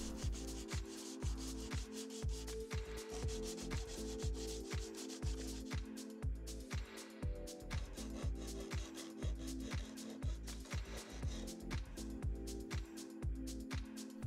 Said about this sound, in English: Next, I did some more sanding to tidy up the edges.